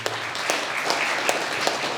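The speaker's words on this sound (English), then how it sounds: "Give yourselves a round of applause" Audience applause closing a company's quarterly executive meeting: a steady wash of clapping with a few sharper individual claps standing out, moderately loud and with no one speaking over it.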